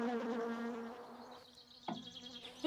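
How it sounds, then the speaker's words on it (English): Wasp buzzing close by in a sitcom scene, a steady droning hum that wavers in pitch for a couple of seconds, with a brief louder rustle near the end. "Oh, it's a wasp! Somebody help me, it's a wasp!"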